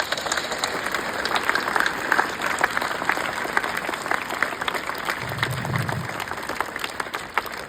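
An audience breaks into steady applause: a continuous, moderately loud wash of many hands clapping with an even texture throughout, with a brief low rumble partway through.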